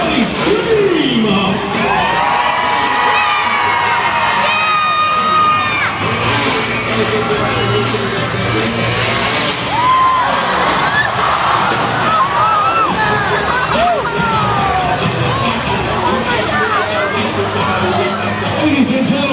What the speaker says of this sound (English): Now, ladies and gentlemen, somebody scream!